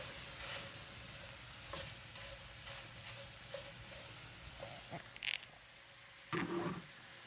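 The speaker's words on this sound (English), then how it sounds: "Now I'm just cooking my eggs. I'm scrambling in the pan." Scrambled eggs sizzling and being stirred in a frying pan, a steady soft crackle with occasional scraping strokes and brief clinks from the utensil against the pan.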